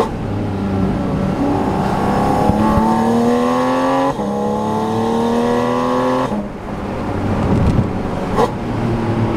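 Porsche Boxster Spyder RS pulling hard on narrow country roads, its flat-six exhaust climbing through the revs in repeated rising sweeps with quick gear changes, loud and close, echoing off the roadsides.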